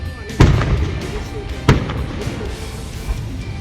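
A Judas belt firecracker string goes off with two sharp, loud bangs about a second apart, then fainter pops and crackle trail on in the background.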